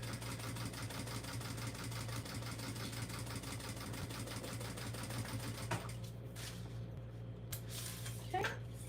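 Sewing machine top stitching along a folded edge of thin waterproof canvas-like fabric, a steady close mechanical whir with rapid needle chatter running almost throughout, briefly easing near the end as faint talk comes in.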